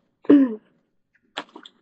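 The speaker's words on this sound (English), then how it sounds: "Pardon my sniffing and sneezing here" A single sharp sneeze close by from a person with a cold, followed after a short pause by a softer sniff or snort.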